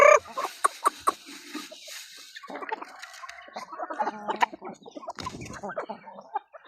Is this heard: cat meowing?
no